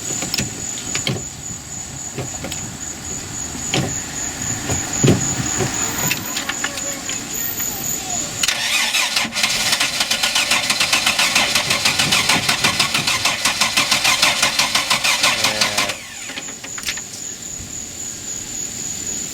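A Hurricane boat's gas motor, with algae in its fuel, cranks slowly without starting in a sustained grinding run mid-clip, while outdoor background noise continues before and after.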